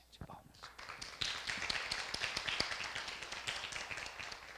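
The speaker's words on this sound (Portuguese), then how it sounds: "Palmas, gente, palmas." Audience at a religious talk clapping hands, dense irregular claps building into steady applause that fills the clip, with speech mixed in.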